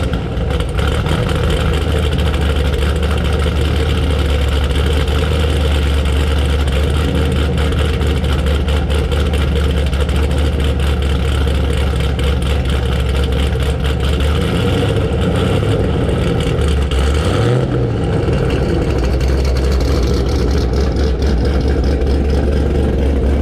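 A fifth-generation Chevrolet Camaro engine idles steadily and loudly up close, a deep continuous rumble with a brief rev near the end.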